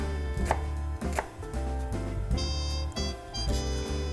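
A knife chops red onion on a cutting board, sounding as a series of close, sharp thuds at an uneven rhythm over a low background hum.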